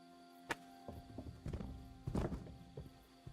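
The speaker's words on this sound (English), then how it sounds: "The horses are here." Horses arrive in the medieval open-world game Kingdom Come Deliverance II, their hooves clip-clopping in a series of irregular thuds with a short whinny, moderately close over a steady ambient bed.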